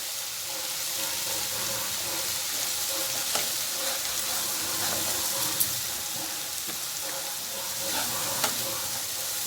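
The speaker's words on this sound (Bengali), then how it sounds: "এর মধ্যে আমরা এবার দিয়ে দিচ্ছি হলুদ গুঁড়ো দিয়ে দিচ্ছি লঙ্কা গুঁড়ো" Turmeric and chili powder sizzle steadily in hot oil with pabda fish for a spicy tel jhal curry, a continuous close frying hiss with light stirring throughout.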